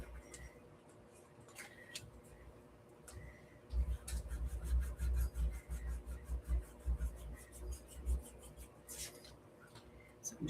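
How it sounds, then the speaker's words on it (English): Craft file rasping across the glossy cover of a handmade steampunk journal, a quiet scratchy rubbing that starts soft and becomes steadier strokes, close and alone with no talk. "So I'm just going to use a craft file."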